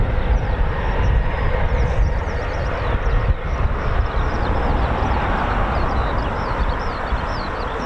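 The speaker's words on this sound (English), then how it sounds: "the CV-22 Osprey is flexing and it's just completed a ground run" A CV-22 Osprey tiltrotor at RAF Mildenhall runs its engines on the ground, producing a loud continuous rumbling roar with a steady high whine, sustained throughout without speech.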